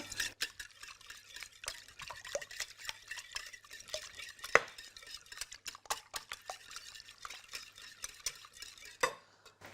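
Cake batter of liquids and oil being mixed by hand in a bowl, a quiet run of irregular clinks and scrapes from a utensil against the sides with a few sharper taps, close and alone.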